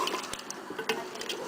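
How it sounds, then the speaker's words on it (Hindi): Water being poured into a cooking pot for beef masala pulao at home, a short close splashing fill with scattered drips and clinks, no talking. "इसमें पानी ऐड करते हैं"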